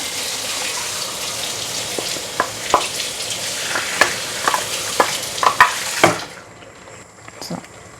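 Fenugreek seed curry stirred in a pan, with utensil scrapes and taps over a steady sizzle, then a soft wet plop as ground coconut paste goes in before the sound drops away near the end.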